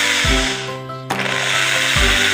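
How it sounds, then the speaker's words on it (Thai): A power drill bores through a plastic cap meant to hold a sprinkler, a steady loud whine that stops briefly and then starts again, with a low motor hum underneath. "อันนี้เราจะเจาะฝาครอบนะครับฝาครอบเพื่อใส่ สปริงเกอร์นะครับ"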